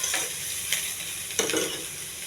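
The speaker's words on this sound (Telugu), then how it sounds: "ఇవన్నీ కొంచెం దోరగా వేగించాలండి." Onions, mustard seeds, cumin, curry leaves and green chillies frying in oil in a pan, a steady close sizzle with a few brief spatula scrapes and stirs cutting through.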